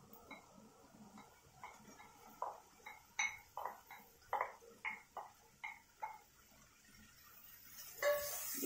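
Boiled cluster beans tipped into a pan of shallots for kothavarangai poriyal, giving a run of about a dozen short clinks and scrapes of spoon on metal pan, evenly spaced and close, with a soft sizzle underneath.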